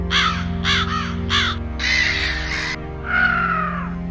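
A crow caws several times in quick harsh bursts, then gives two longer drawn-out calls, fairly close over a steady low background hum.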